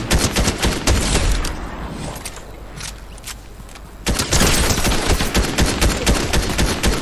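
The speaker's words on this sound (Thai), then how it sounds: "ยิงคนข้างบนแล้วก็ยิงคนข้างล่าง" Rapid bursts of gunfire in the video game Fortnite, loud and close, with dense repeated shots that ease off for a moment midway and then resume heavily.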